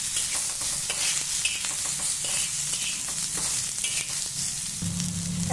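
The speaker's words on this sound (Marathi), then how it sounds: "आता आपण आपला मसाला भाजून घेऊ" Masala and chopped onion roasting in a pan for Kolhapuri egg curry, a steady close sizzle with repeated scraping stirs of a spoon throughout, no talking.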